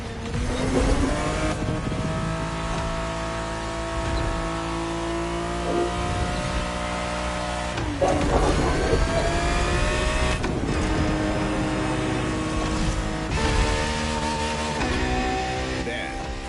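A Ferrari 365 GTB4 in a Gran Turismo 7 race, its engine roaring loud and steady through repeated climbing revs and abrupt gear changes, with brief dips as it shifts, for the whole stretch.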